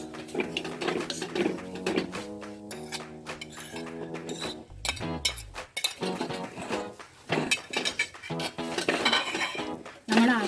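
Elephant foot yam flowers are stirred into coriander masala in a pan, with repeated metal clinks and scraping of a spoon against the vessel, close and irregular, with no voices.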